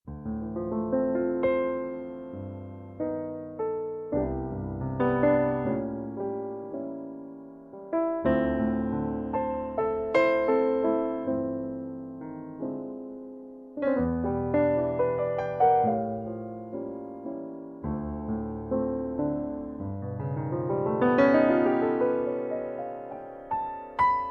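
A sampled Steinway grand piano patch plays a slow, gentle jazz ballad, with soft chords and melodic runs rising and falling, close and warm with no talking.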